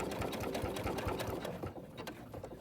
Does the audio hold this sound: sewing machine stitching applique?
yes